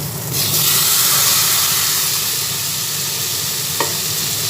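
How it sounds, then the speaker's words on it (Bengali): Spices sizzle and hiss loudly in hot oil, a steady, continuous frying sound throughout, with one faint click near the end. "একসঙ্গে সব মশলা ভেজে নিচ্ছি"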